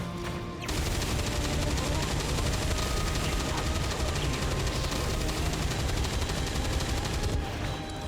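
Sustained dense gunfire in XCOM 2, with a continuous rattling barrage of rapid shots and booming texture running for several seconds at steady high volume before cutting back.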